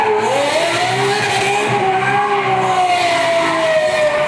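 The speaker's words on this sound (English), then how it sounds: "This is where I get to do some donuts, but I bring out the SVJ." A Lamborghini SVJ spinning donuts, its tires squealing in a loud, sustained, wavering shriek over a steady engine roar, with no break across the stretch.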